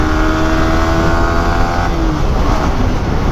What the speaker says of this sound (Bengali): ওই যে R15 নিয়ে দেখেন কীভাবে টানে বেটা।